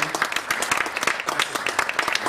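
Steady applause from a conference audience, a thick continuous crackle of many hands clapping at even loudness throughout, with no voices standing out.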